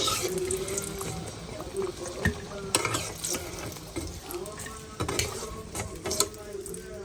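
Small pieces of chicken sizzle in a pan under steady stirring, with occasional clinks of a utensil against the metal.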